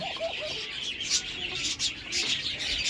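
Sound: diamond dove and budgerigars chirping

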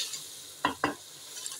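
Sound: tinda and mutton being stirred and fried in a pot

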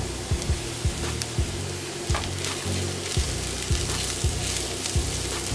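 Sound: spices sautéing in hot oil

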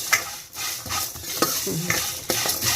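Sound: stirring food in a pan

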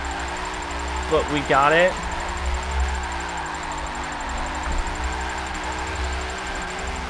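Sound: drift car engine in Forza 7 video game

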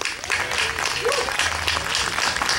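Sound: audience applause for a singer

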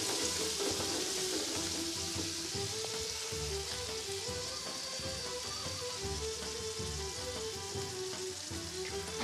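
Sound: meat frying in a pan

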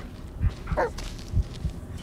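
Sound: dog Bullet barking in Blair Witch video game

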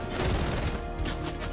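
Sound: charged SMG gunfire in Fortnite video game

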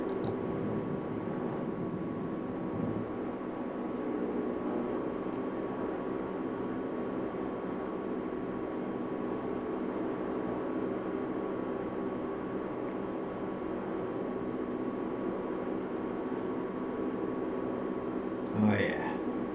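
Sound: DHC-4 Caribou aircraft engine noise in flight

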